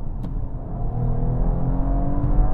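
A car kicks down to third gear and accelerates, its V6 engine giving a steady, rising rumble and whir that gradually grows louder with no talk over it.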